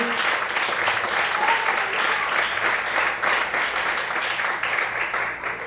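A church congregation applauds loudly and steadily during an evening worship service, a dense wash of many hands clapping that holds at an even level throughout.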